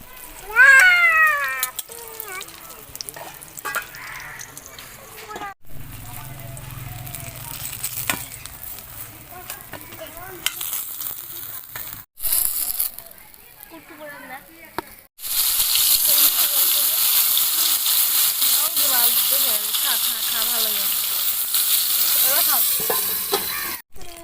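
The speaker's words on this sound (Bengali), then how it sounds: "এখানে আমি বেগুনটা ভেজে ভর্তা বানাবো।" Eggplant slices are fried in hot oil to be mashed into bharta, with a loud, continuous sizzle that swells strongly in the second half, under some talk and a cat's meows earlier on.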